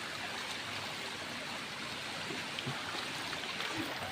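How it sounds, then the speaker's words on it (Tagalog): Water of a stream runs steadily through Lerupan cave near Pagalongan, Cagayan de Oro, a constant soft rushing flow with no voices. "Sapa gani siya nga sapa."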